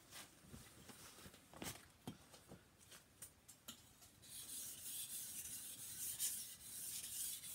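Steady rasping strokes of a knife drawn across a 1000 grit whetstone under moderate pressure, a series of close scraping passes, the later ones smoother and more continuous.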